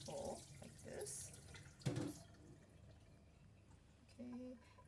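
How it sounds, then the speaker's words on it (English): Water poured off a bowl of soaked edamame beans to rinse away loose skins, a few short splashing and trickling bursts against quiet kitchen background. "you just pour out the top of the bowl like this"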